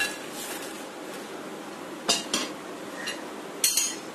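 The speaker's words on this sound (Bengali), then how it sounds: "এখন এই মশলার মধ্যে এই নাচোসগুলি আমি ঢেলে দিচ্ছি।" Crisp nachos tip into a bowl of dry spices with light clinks and rustling, marked by a few sharper clatters as chips hit the bowl, quiet and close.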